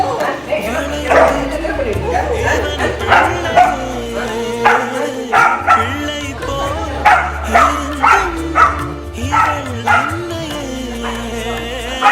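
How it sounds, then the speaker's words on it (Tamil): A pet dog yips and barks in short repeated bursts, close and loud, mixed with heavy talk and a low musical bed throughout. "ஆனா நம்ம வளர்க்குற நாய் நமக்காக கண்டிப்பா நிக்கும்."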